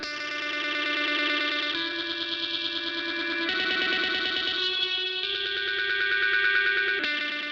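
Electronic music loaded with delay feedback turned all the way up and yanked back, producing repeating zipping, warbling echoes over a droning, distorted synth texture, loud and continuous with no talking.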